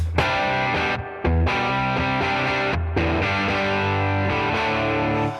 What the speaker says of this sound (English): you can imagine that with distortion like this